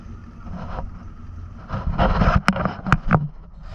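Wind and water noise around a broken-down boat being towed home, with a low rumble and a few sharp knocks against the hull near the end.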